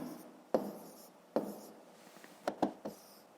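A pen or pencil writes numbers by hand on paper, giving faint continuous scratching broken by several sharp taps and quick strokes, close and quiet.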